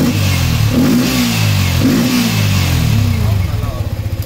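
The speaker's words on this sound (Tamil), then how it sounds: "இந்த வண்டியில் ஒன்று பார்த்தீங்கன்னா கேஎன் ஃபில்டர்னு சொல்லி ஒரு சவுண்டுக்காக செட் பண்ணிருக்காங்க" A modified 2019 motorcycle fitted with a K&N air filter revs loudly and close by, its engine rising and falling in several throttle blips before settling into a pulsing idle, with someone talking over it.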